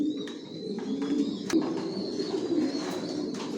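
Racer pigeons coo softly inside a loft where breeding pairs sit on eggs, with low repeated cooing and a few faint chirps layered over one another at moderate distance.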